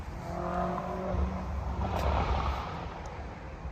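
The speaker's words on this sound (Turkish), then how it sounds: "İyi ses yapıyor arabası." An Audi RS7 Performance engine drones and revs steadily at close range, a low rumbling roar holding throughout without any voices.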